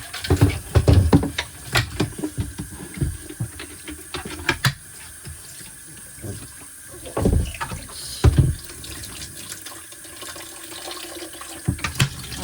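Water sloshes and splashes in irregular bursts as a dirty Shark NV501 vacuum part is shaken and agitated to clean it, close and uneven with pauses between shakes.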